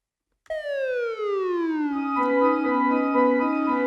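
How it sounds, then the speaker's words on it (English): A falling synthesizer sweep from an ARP 2600 in the intro enters abruptly, glides steadily downward in pitch, and then settles into a sustained, buzzy tone. "he apparently pushed the button on the ARP 2600 to make this falling sound here."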